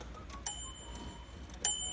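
A 1936 Royal Model O typewriter's carriage bell rings twice, with two bright, close metallic dings about a second apart over a faint room hush.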